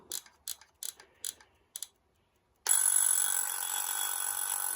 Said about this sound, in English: Yeah, that's the alarm.